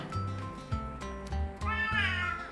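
A cat meows repeatedly, several short nasal calls in quick succession, close and clear, the last one rising into a longer plaintive cry.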